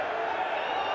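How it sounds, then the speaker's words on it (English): A home basketball crowd at a PAOK versus Ventspils Basket Champions League game reacts to a foul call, a brief, dense and steady roar of many voices filling the arena. "Foul called though on Soklis. Home crowd don't like it."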